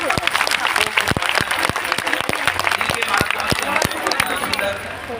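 A crowd at a religious katha gathering in Karnal applauds the organizing family, a loud, dense stretch of many hands clapping with a voice speaking over it.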